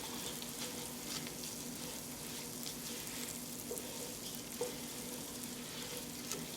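Shrimp risotto rice frying in a pan, giving a steady, moderately quiet sizzle with soft scraping from stirring running throughout, no voices.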